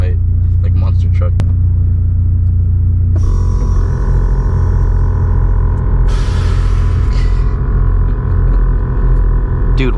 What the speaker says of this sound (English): the compressors make that noise until this hits 170